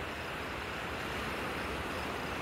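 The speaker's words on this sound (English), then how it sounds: "The sea is very active today." Ocean waves surge against the rocky coast below Portland Head Lighthouse in Maine on a rough day. It is a steady, loud, unbroken roar of surf with wind and no voices.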